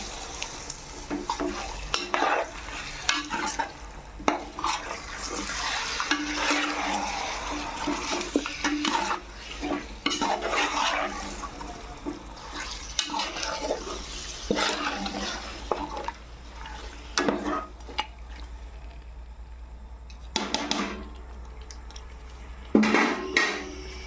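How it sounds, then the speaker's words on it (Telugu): Mutton pieces being stirred into biryani masala in a pot: irregular spoon scrapes and clanks against the metal over a low sizzle, continuous for the whole stretch with no talking. "కలిసేలాగా మొత్తం కలుపుకుంటున్నాను"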